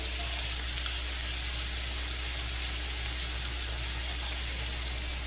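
Steady, dense sizzling of ginger paste and a little water hitting hot oil with fried whole spices, cooking potatoes for vegetarian dum aloo, constant and close with no voices.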